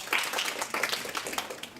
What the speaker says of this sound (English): And let's give a round of applause for that.